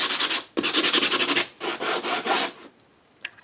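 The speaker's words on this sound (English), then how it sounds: "I'm going to bring my sandpaper in and just scuff up the cover a little bit." Sandpaper scuffs across a book cover in quick back-and-forth strokes, three bursts of brisk rubbing separated by short pauses, close and clear with no talking, ending in near silence.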